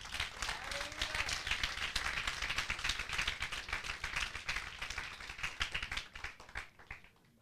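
A church congregation claps and cheers for Jesus in dense, rapid applause that keeps going, then fades out near the end. A few voices cut through it.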